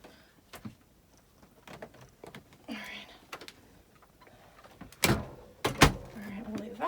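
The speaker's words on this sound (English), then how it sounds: "I have to close this pantry door really quick." A pantry door in an RV kitchen clicks and thumps shut twice in sharp knocks, close by. Softer rustling and handling noises come before it, with no voices over it.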